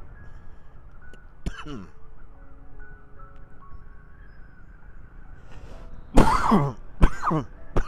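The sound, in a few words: cough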